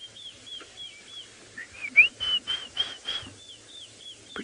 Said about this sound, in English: Pretty sure that's a robin.